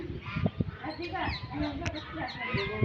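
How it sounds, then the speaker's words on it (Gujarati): A duck quacks and honks in short, repeated calls at close range, with a person talking over the bird. "બતક"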